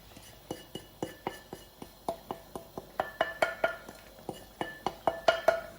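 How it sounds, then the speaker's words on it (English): A spoon stirs coconut into chicken korma curry in a pan, knocking steadily against the metal with repeated close clinks and scrapes, about three strikes a second, with no talking. "Give that a stir"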